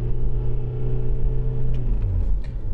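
A car's engine under a turbo test drones steadily with low harmonic rumble, then its pitch and note change as the engine cuts out near the end, loud and close with no talk.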